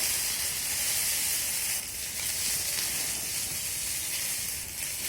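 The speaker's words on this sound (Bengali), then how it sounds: "আদা আর জিরেটা দেওয়ার পর একটু ভালো করে ভেজে নেব" Ginger and cumin paste frying in a pan gives a loud, steady hiss of sizzling that runs unbroken throughout, close up and with no talk.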